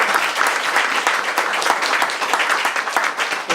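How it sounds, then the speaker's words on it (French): Dense applause from a crowd at a double gallery opening in Durham-Sud, continuous and lively with crisp individual claps throughout. "Plein d'applaudissements."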